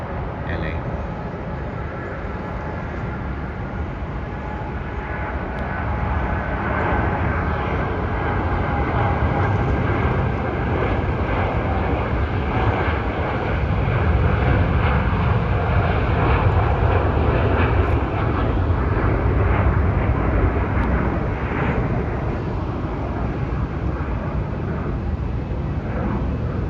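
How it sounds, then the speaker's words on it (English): An airliner takes off at Melbourne airport: a continuous broad engine roar, loud and close, building slightly and holding steady for nearly half a minute. "Takeoff right now."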